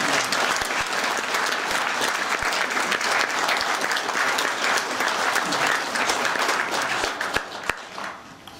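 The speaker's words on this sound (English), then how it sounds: "So please give an encouraging round of applause for Mr. Scott." An audience claps steadily for a speaker being welcomed to the stage at a fan convention, the dense applause holding for several seconds before thinning out at the end.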